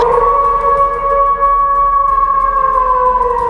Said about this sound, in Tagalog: nagpakawala pa ito ng isang malakas na pag-alulong